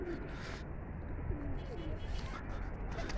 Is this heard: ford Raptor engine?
no